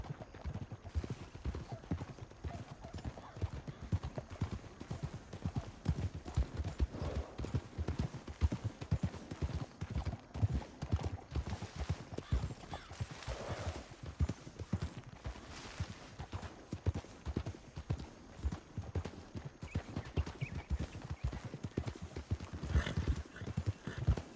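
Rapid clip-clop of galloping horse hooves in the video game Red Dead Redemption 2, continuous and fairly close, with an occasional whinny.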